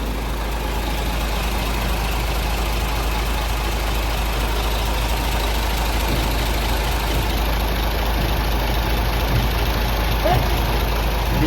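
A 2017 Isuzu Giga FVZ 34 P 6x4 truck's 285 PS diesel engine idles steadily, a constant low rumble that stays even from start to finish.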